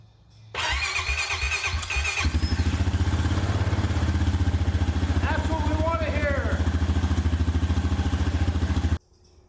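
A 2008 Honda Fourtrax ATV engine cranks with a few starter bursts, then catches and settles into a steady, loud, close idle that runs evenly for several seconds before cutting off abruptly.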